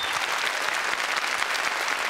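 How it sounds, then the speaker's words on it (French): A studio audience on a French television show claps steadily and densely throughout, a sustained wash of applause with no speech over it. "Applaudissements pour les intermittents du spectacle."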